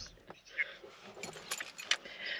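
A bunch of car keys jangles and clinks faintly in several light, scattered bursts against a quiet background.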